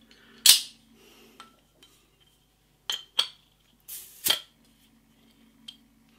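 Pillars Icebock beer bottle being opened: a few sharp clinks and metallic snaps of the cap, spaced out over a quiet background with a faint hum and no talk.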